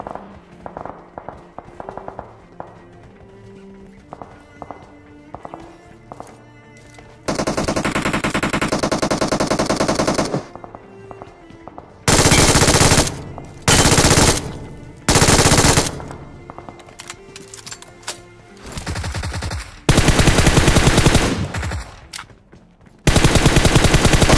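Gunfire in a mobile battle royale game at a military base, with long loud bursts of automatic fire alternating with shorter volleys and quieter stretches of footsteps and movement.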